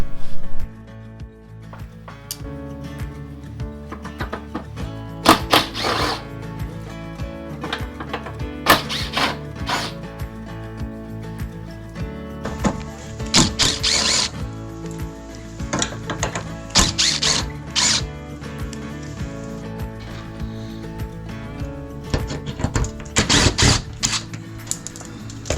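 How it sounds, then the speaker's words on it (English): Plastic retaining clips on a 2015 Nissan Murano front fender being pried loose, giving intermittent sharp clicks and snaps, some in quick clusters, over a steady tonal background. "we're going to undo those clips carefully and remove that fender, the fender from the bumper"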